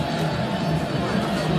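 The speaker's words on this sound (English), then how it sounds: "A crowd looking forward to the second half as they continue to chant and sing and celebrate." Football crowd at a women's club qualifier match between UD Lichinga and Ascent Academy, a dense, steady roar of voices and distant chanting filling the stadium without letup.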